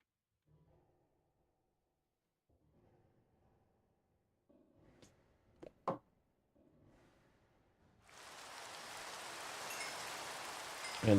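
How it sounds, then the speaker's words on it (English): Minecraft rain begins suddenly after near silence broken by a few faint clicks and taps, becoming a steady hiss of falling rain that holds to the end. "And it is raining again"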